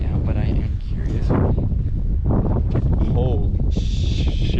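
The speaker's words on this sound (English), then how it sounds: "It's getting a little windy out, but I am curious." Strong gusty wind buffets the microphone outdoors at Arches National Park in Utah, roaring in uneven bursts while a person talks over it close by.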